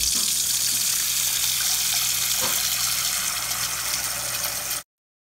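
Tap water pours steadily into a big bowl being filled for lemon juice and water, a continuous close hiss and gush with no talk over it, stopping abruptly near the end.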